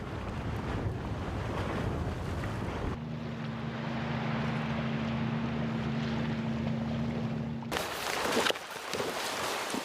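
A rubber boat motors near Sejong Station in Antarctica. Wind and waves rush loudly around a steady, humming outboard drone in the middle stretch, then gusty wind buffets the microphone.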